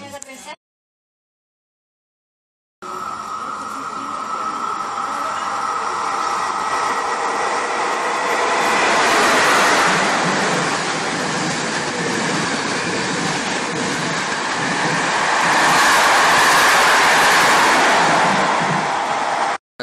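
A regional train on the line between Rimini Miramare and Cattolica runs with its window open, bringing a loud, continuous roar of wheels and rushing air that swells and eases, after a brief silence at the start.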